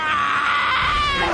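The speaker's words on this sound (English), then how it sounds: "I guess this is the part where I start screaming." A cartoon character screams from a SpongeBob horror scene, one loud sustained high-pitched shriek lasting over a second, close and alone.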